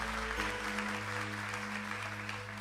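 Church congregation applauding during a Catholic priest's sermon, a soft, even wash of clapping heard from a distance beneath steady background hum and low electronic tones.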